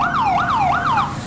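A police siren from a GTA roleplay game wails in a steady rising-and-falling sweep, about three and a half cycles, loud and up close with no talking over it.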